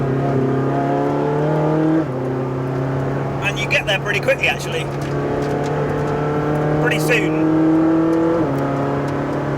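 Ferrari 458 Speciale, 597bhp, driven hard on a race track: a steady high engine drone with harmonics holding pitch, shifting at a couple of points, continuous under someone talking throughout.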